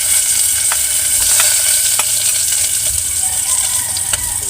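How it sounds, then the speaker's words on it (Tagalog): Garlic sizzles and fries steadily in a hot pan, a constant close hiss with a few faint clicks of stirring, no talking. "Gigisahin na natin yung bawang."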